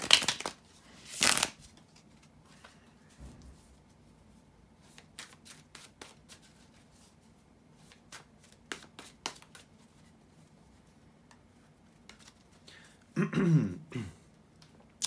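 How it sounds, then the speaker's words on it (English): Tarot cards shuffled in a few brief, soft riffling bursts at the start and near the end, with quiet pauses and faint handling sounds between. "bear with me a second guys to shuffle the tarot cards"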